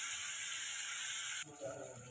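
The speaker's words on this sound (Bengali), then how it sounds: "এবার এটাকে একটু কষিয়ে নেব" Broad beans sautéing in a pan for a poppy-seed bean dish give a steady, close hiss of sizzling that drops suddenly partway through to a quieter, rougher frying texture.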